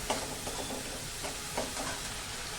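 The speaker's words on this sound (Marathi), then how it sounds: "मीठ आणि मस्त तेल सुटेपर्यंत हे छान असं परतवून घ्यायचं" Potato curry fries in oil in a pan. Within a short stretch there is a continuous sizzle with several quick scraping stirs close by, and no voices.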